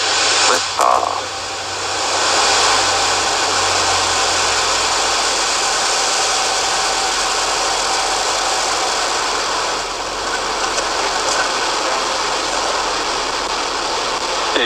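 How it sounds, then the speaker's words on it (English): A SpaceX rocket lifts off on a Starlink launch with a broad, steady engine roar that holds loud and constant after a brief start, heard as if over a broadcast feed. "Liftoff."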